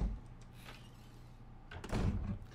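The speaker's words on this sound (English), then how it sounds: "the number of door transitions that are in this game" A door opens in a Resident Evil video game transition, a soft slide followed by a louder, close thud and rumble near the end, with quiet ambience before it.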